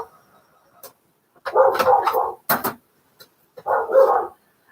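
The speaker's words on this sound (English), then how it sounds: "I have a dog under my table and 2 out in the front room that are making noise" Several dogs bark in a home, one from under a table and others in a front room, with two loud bursts of barking and a short yap between them, fairly close and with no talk over them.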